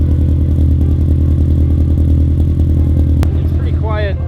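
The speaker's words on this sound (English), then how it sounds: "So why don't you fire this thing up for us?" A 1985 Toyota Corolla with a swapped BEAMS engine idling, a loud, steady, even exhaust drone throughout, with a brief sharp click and a voice near the end.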